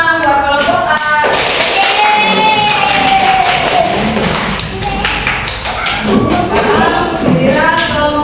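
Classroom applause for a student group, rapid clapping and tapping mixed with children's excited shouts and cheering voices, loud and close throughout.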